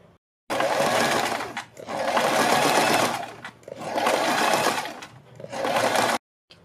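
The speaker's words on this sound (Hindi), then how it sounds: "इसमें फिर हम ऊपर की तरफ बुकरम के बिल्कुल बराबर में एक सिलाई लगाएंगे।" Electric sewing machine stitching a seam on fabric right along buckram for a neck design. It runs in three close, loud bursts of rapid whirring separated by short pauses, then stops abruptly into silence, with no talking.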